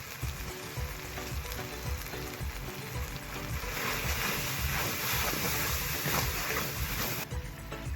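Bay leaves and turmeric frying in hot oil with a loud, continuous sizzle that swells midway and holds steady, close up.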